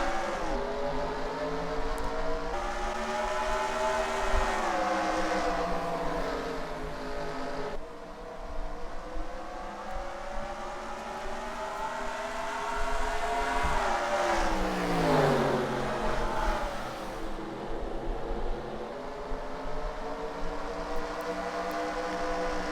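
A field of race cars in a sim racing game pulls away from the green flag at Richmond, engines droning together in a steady, loud roar with rising and falling pitch as the pack accelerates, no voices over it.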